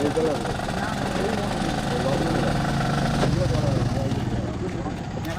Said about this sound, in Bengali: ট্রলার দেখুন কত বড় বড়।